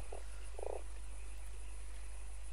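A toad croaks in the video game Fran Bow, two short low croaks over a steady electronic hum.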